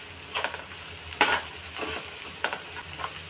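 Onion and salt are stirred while frying in a pan, with a few scattered spoon scrapes and clinks over a low steady sizzle, close and fairly quiet.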